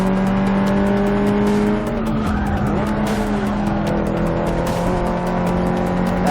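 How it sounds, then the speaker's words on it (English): An Audi Quattro in the Forza 6 racing game, its engine droning loud and steady with shifting pitch as tires squeal and skid through corners. "Audi Quattro."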